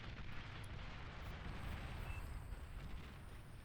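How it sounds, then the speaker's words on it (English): Dense, continuous rumbling explosions from a bombing run in the strategy game Beyond All Reason, a heavy overlapping roar of blasts that stays loud and unbroken throughout, with no voices. "this is the desperation bombing run"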